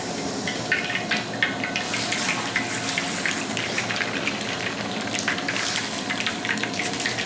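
Mustard seeds dropped into hot coconut oil sputter and hiss in a steady, busy crackle that runs throughout, close and fairly loud with no talk over it.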